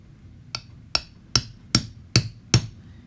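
Six evenly spaced sharp taps, a tool punching holes through a clamped paper stack for Japanese stab binding, close and crisp against a quiet background.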